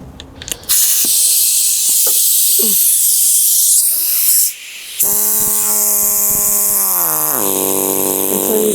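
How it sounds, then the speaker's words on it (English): A pneumatic air tool in a studio hisses loudly and steadily with compressed air, broken by a short gap, then resuming with a whining motor tone that shifts pitch as it runs. "This is the pneumatic. I'm supposed to oil it first. So this is power from air."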